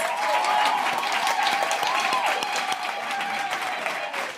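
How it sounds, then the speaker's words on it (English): Audience applause at a University of the Free State Africa Month celebration on the Qwaqwa campus, a steady, dense wash of clapping and crowd noise holding strong for several seconds before easing slightly. "let's give them another round of applause"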